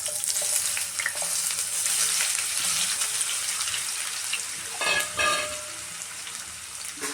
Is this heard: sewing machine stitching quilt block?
no